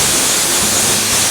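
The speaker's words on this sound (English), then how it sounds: "make sure to run some compressed air" Compressed air blasting out a freshly tapped threaded hole in a Harley-Davidson FXR frame, a loud, steady, close hiss held for the whole moment without break.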